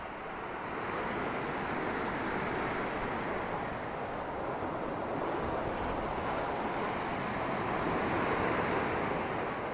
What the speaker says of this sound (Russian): Смотрите, волны какие.